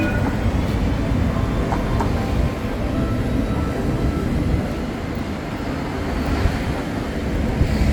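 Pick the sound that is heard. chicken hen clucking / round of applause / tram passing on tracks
tram passing on tracks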